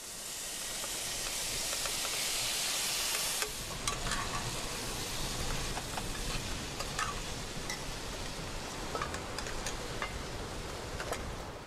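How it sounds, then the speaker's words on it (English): Ackee and a sautéed vegetable spice mix sizzle steadily in vegetable oil at a Jamaican pushcart, a loud broad hiss that eases a few seconds in, with faint stirring clicks over the continuous frying. "Now, just mildly sizzling for a while"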